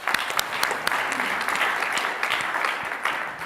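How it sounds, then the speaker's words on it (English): Audience applause at a Paralympic sports conference in Oceania: many hands clapping steadily at moderate distance, with sharp individual claps standing out from the continuous patter. "Round of applause for Paul"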